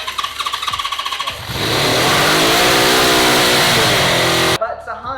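A Honda CB650 cafe racer motorcycle engine blips in quick pulses, then climbs and holds a loud, sustained high-rpm scream near 9,000 RPM before dropping off abruptly.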